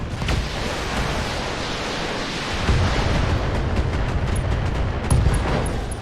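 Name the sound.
LRM ammo explosion in BattleTech video game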